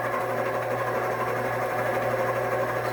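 An electric mixer hums steadily at a constant speed while blending flour, baking powder, soda and salt for an orange pound cake, an unbroken motor drone with a faint rattle and no voices.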